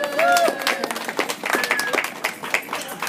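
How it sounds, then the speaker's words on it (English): A crowd at a school presentation bursts into steady applause, dense clapping filling the room for a few seconds, with a voice briefly heard over it. "Yes, round of applause."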